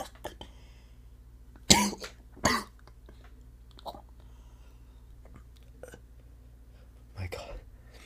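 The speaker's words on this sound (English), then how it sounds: "I'm coughing blood." Soft close-up coughs in a whispered ASMR roleplay, two sharp bursts followed by fainter coughs and throat sounds, with quiet breathy vocal noises between them.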